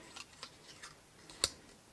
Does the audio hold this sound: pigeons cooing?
no